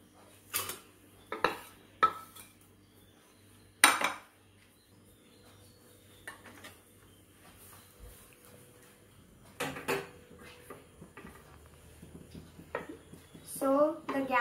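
Pan and metal utensils clatter while onions are sautéed in oil on a gas stove during a cooking competition, with scattered sharp clinks and scrapes spread across the clip and quieter pauses between.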